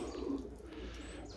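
Budapest tumbler pigeons cooing around their loft, a soft low throaty coo rolling for a moment, fairly close but quiet, with faint outdoor background.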